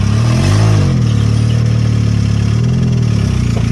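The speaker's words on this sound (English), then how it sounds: "This is the vehicle that you heard start up earlier, fired up with the jump box." A jump-started car engine idles steadily nearby at a fairly loud level, its low drone holding even with a slight swell early on and no talk over it.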